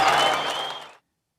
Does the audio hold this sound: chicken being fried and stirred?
no